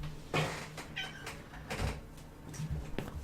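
A pet cat meows several times indoors, short close calls mixed with light handling bumps and rustling.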